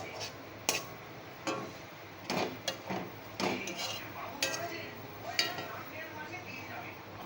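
Mashed thankuni (Indian pennywort) leaves mixed in a bowl, giving irregular close clinks and scrapes of a spoon against the dish, with soft handling noise between the strikes.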